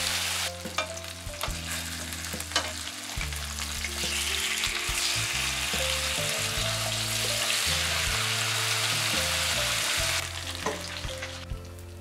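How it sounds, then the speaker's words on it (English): Lemongrass pork fries in a little oil in a pan over medium-low heat, giving a steady close sizzle that swells louder through the middle. Scattered low knocks and scrapes of the pan and utensils sound along with it. "Grill them in a pan over medium-low heat with a little oil"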